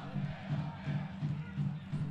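Football crowd at Dito Souza stadium during a 2022 Copa do Brasil match between Operário Várzea Grande and Sampaio Corrêa, a dense roar with a steady rhythmic pulse like massed chanting, continuous and moderately distant.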